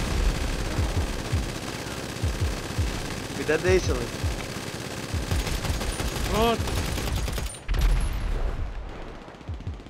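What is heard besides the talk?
machine gun fire in video game GTA V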